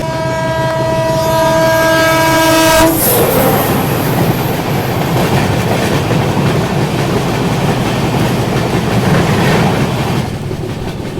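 A Howrah Shatabdi express train rushes past on a parallel track, loud and close, with a steady roar and rhythmic clickety-clack of wheels over rail joints, heard from inside a moving train after a long horn-like tone fades.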